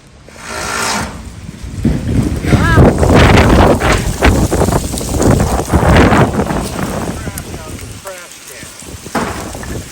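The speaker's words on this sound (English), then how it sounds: "That was a big gust of wind." A big outdoor gust of wind roars and buffets the microphone, loud and rough for the whole stretch, rising and falling in surges.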